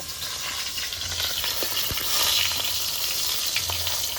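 Steady, close sizzling of small river-fish patury frying in mustard oil, with a few soft pops and clicks over the hiss.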